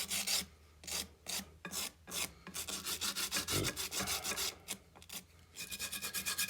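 Repeated scraping strokes of rust being scrubbed off a metal vise treated with rust eater, a steady rhythmic back-and-forth rasp up close with short pauses between bursts.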